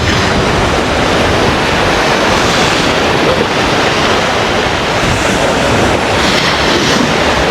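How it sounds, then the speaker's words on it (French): Sea waves surging onto a beach, a steady broadband roar of surf mixed with wind rushing over the microphone, continuous and loud for the whole stretch with no voices. "Ça y est, on est à la mer."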